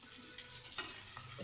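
Chopped chilli and onion fry in oil for shrimp curry with potato, bean and tomato, giving a soft, steady sizzle with a few faint stirring clicks and no talk.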